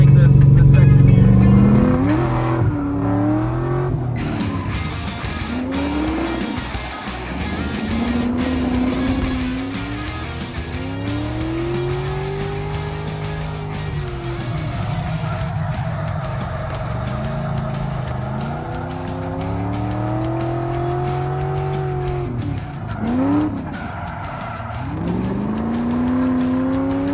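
A Corvette engine roars and revs repeatedly while drifting, pitch swooping up and down as it slides through turns with tire squeal, with a voice talking over the noise.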